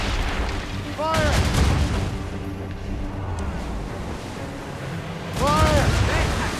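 Ship cannons firing in the Assassin's Creed Rogue naval battle, two loud booming volleys a few seconds apart over constant sea and battle rumble, with shouted crew voices.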